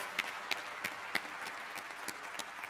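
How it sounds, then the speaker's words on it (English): Panel audience applause, a thin scattered patter of hand claps at modest level with a few sharper individual claps standing out, fairly distant and brief. "a big applause to the speakers today."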